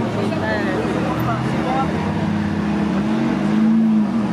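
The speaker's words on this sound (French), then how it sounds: "Donc, la première Ferrari est arrivée." A Ferrari sports car's engine rumbles steadily as it arrives at a French car meet, Redhorse 2022, a continuous low drone that swells slightly near the end, with voices around it.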